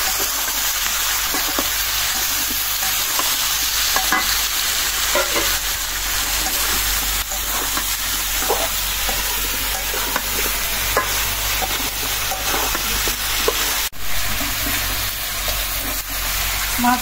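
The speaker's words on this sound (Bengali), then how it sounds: "আলু পেঁয়াজটা ভাজা হয়ে গেছে, এখন দিয়ে দিলাম মাছ।" Fish goes into hot oil over already-fried potatoes and onions, giving a close, loud, steady sizzle and crackle that runs unbroken from start to end, with a few faint scraping clicks.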